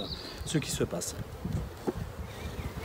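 Honeybees buzz steadily around an opened hive during a beekeeping inspection, with a close, droning hum running under someone talking.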